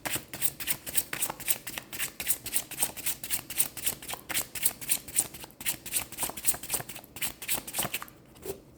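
Tarot cards are shuffled with a long run of fast, even riffling flutters, close and fairly soft, that go on steadily before stopping near the end.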